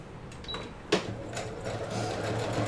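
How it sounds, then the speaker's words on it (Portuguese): A sewing machine stitches a straight seam through layered fabric for a Christmas tree project, a soft steady whir with a faint click at the start. "vocês vão passar uma costura aqui no meio"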